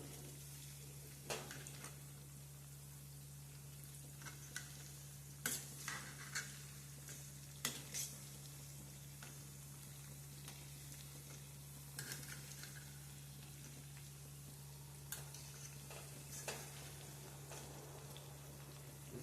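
Chakri frying in hot oil and being turned, with a low, steady sizzle under a constant hum, broken by scattered clicks and scrapes from the utensil. Close and quiet, no voices.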